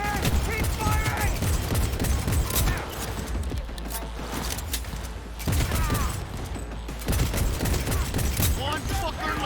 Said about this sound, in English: Open fire! B, get a grip! Keep hit! Keep firing!